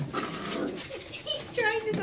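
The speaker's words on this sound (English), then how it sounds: "Don't bark at me." A puppy whimpers and gives short yips close by during play, in quick, uneven bursts under people talking.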